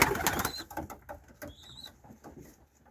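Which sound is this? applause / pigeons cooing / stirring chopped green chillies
pigeons cooing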